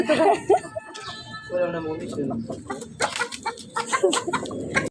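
Chickens cluck and squawk in a rural yard beneath a jackfruit tree, close and lively, with people talking over and between the calls.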